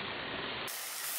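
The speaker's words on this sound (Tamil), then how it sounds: "அதுக்கு மேலே நம்ம இந்த பட்டர் போட்டு தம் போடணும்" Butter hisses on hot charcoal while fish is smoked village-style, a close, steady spray-like hiss that brightens and thins partway through.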